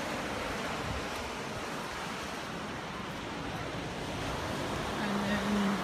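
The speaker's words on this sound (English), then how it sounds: "this is the beach, but there will be a lot more sand here." Ocean surf washes onto a beach in a continuous, soft roar mixed with wind buffeting the microphone, with voices speaking at moments over it.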